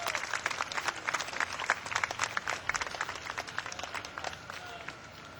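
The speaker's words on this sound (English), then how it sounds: "Let's give them a round of applause." Crowd at a 2009 hometown homecoming parade in Wauseon applauds the Fulton County Honor Guard, a steady wash of many hands clapping with some cheering mixed in, fairly close and loud throughout.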